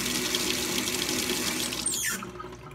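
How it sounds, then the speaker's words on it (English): Water gushes steadily as a big aquarium tank is drained through a hose valve, a continuous close splashing flow that thins out and trails off near the end, with no talk. "That's how you drain your tank."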